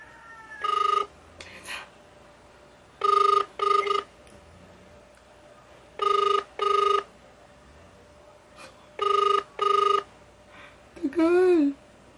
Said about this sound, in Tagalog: Tawagan na natin siya.